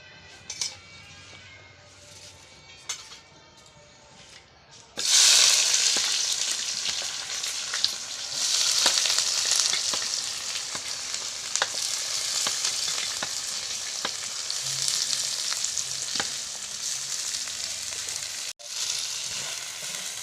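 Onions hit hot oil in a pan with an abrupt loud sizzle that keeps frying steadily for many seconds, with occasional light clinks of stirring. Before that comes a quieter stretch of faint kitchen sounds.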